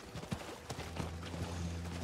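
Horse hooves clip-clop in Diablo IV as a horse moves through the game, a quick run of soft thuds at first that fades under steady low game background noise and tones.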